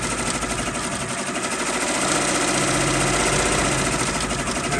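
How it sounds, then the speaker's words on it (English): A Berger embroidery machine stitching a logo runs as a dense, continuous mechanical drone with a rapid repetitive needle beat, loud and steady, its pace shifting slightly midway as the speed changes. "But you can just hear the machine, how much faster or slower it's going as it's stitching."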